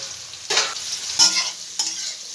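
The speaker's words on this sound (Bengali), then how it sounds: "এই তেলটার মধ্যেই আমি সয়াবিনগুলো সব ছেড়ে দেবো," Soybean chunks drop into hot oil and fry, a close, bright sizzle with three distinct surges as pieces hit the pan and are stirred.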